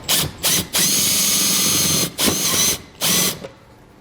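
Power drill driving a self-tapping screw into the body of a 2012 Kia Soul, loud close whirring in several bursts: two short pulses, a long sustained run, then two more runs before stopping.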